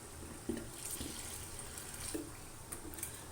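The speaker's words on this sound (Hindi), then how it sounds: "अब मैं इसमें कम से कम 2 कप पानी शामिल करूँगी ताकि इसकी ग्रेवी जो है रेडी हो जाए।" About two cups of water are poured into a simmering chicken masala gravy for a Pakistani-style chicken salan, producing a steady, soft splashing pour with a few small clinks along the way.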